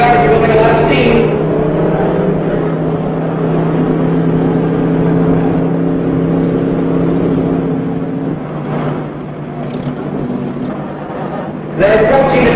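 Racing hot rods, including a T-Bird, drone steadily at high speed, a continuous loud engine hum that dips slightly before another surge of revving at the very end.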